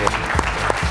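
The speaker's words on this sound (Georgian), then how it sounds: "აპლოდისმენტები" A studio audience at a Georgian television comedy show claps in a brief, dense burst of applause that sounds close and fills the whole moment.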